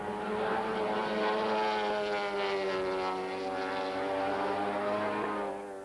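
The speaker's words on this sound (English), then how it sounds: "It's the new sound of MotoGP." Four-stroke MotoGP racing motorcycles at a 2002 World Championship race in Japan make a loud, steady, high-revving engine drone that holds throughout with no talk.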